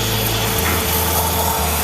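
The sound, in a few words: steam wand of DeLonghi Dedica espresso machine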